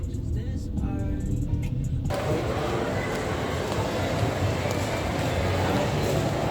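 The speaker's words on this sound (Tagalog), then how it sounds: "Traffic!" Street traffic with cars passing, a continuous broadband roar that swells suddenly and stays loud and steady, with faint talk underneath at first.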